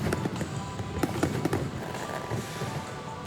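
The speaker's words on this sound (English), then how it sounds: "the light show will be replaced by the National Day fireworks rehearsal" Fireworks rehearsal for Singapore's National Day, a rapid barrage of sharp bursts and crackles over a continuous rumbling wash, fairly distant and steady throughout.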